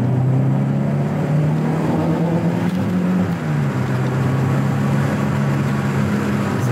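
A Volvo 480 Turbo engine hums steadily at a low pitch while driving, a constant drone with road noise and no voices.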